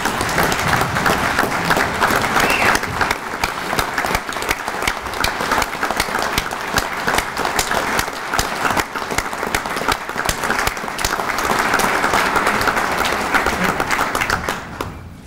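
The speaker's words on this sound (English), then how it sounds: "Let's give these young men and women another round of applause." Sustained, even applause from a seated audience at an American Legion cadet award ceremony in Indiana, a thick wash of many hands clapping at full strength for about fifteen seconds before tapering off.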